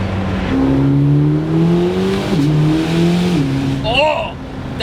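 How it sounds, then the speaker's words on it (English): A 2026 Corvette ZR1X engine revs loudly from inside the car, its pitch climbing steadily, then dropping sharply at an upshift before rising again; a brief exclamation comes near the end. "Oh, that upshift."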